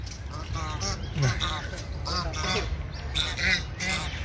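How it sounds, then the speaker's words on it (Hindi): Ducks and geese quack and honk in Ayub Park, Rawalpindi, their calls mixed under a person talking over them at close range, with scattered bursts throughout. "वो गीज़ हैं सामने जा रही हैं, बड़ी प्यारी डक्स रखी हुई हैं इन्होंने"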